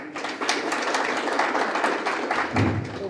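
An audience at a startup event in Sialkot, Pakistan breaks into dense, sustained applause, many hands clapping together at a steady roar for about three seconds before it tapers.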